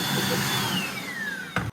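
A household vacuum cleaner runs steadily with a whining tone that slowly drops in pitch, then cuts off abruptly after a brief surge near the end.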